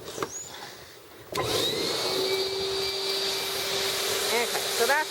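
Dog grooming blower drying wet coats after a bath, switching on partway through with a sudden loud, steady high-pitched whine and rushing air that holds at constant strength to the end.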